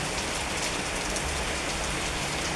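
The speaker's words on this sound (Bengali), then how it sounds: "কত জোরে বৃষ্টি আসছে" Heavy rain pours down hard and steady, a dense, unbroken hiss that stays loud throughout without a pause.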